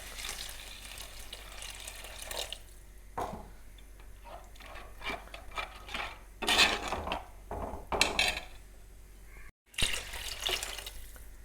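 Water poured into a pot of fish curry cooking on the stove, heard as close, intermittent splashing and gushing bursts with short pauses between them and no talk.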